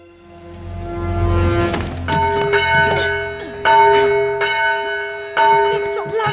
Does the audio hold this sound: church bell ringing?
yes